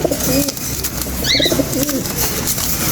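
A blue bar pigeon coos close by in a few soft, rolling calls over steady background noise.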